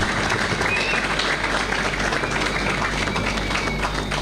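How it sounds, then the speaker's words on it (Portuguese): Sustained, dense applause from an audience at a political speech in Mozambique, steady and loud throughout, with no break in the clapping. "uma salva de palmas bem fortes para a Associação Médica"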